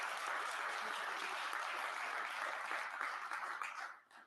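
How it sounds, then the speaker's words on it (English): A crowd applauds in person at a mayor's State of the City Address, the clapping steady and full before tapering off quickly near the end. "I'll clap for that."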